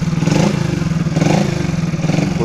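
A 2007 Honda Wave 100 motorcycle fitted with a silencer, its engine running steadily and loud at close range with a couple of brief rises in revs, no voices.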